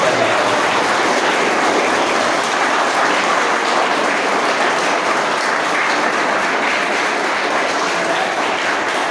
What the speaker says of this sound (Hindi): तो बहुत जोरदार तालियां होने चाहिए।